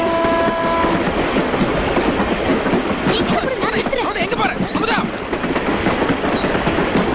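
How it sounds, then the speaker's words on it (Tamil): A train rolls past close by, with loud steady rumble and clatter and a horn sounding at the start, while a voice calls out over it. "ஐயோ ட்ரெயின்!"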